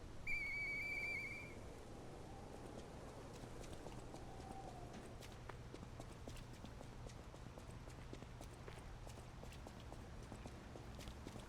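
In the video game Lies of P, a whistle is blown in one short, clear, high blast at the start, followed by steady hoof-like clip-clop footsteps, all fairly faint.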